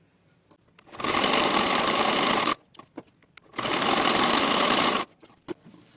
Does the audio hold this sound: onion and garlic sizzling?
no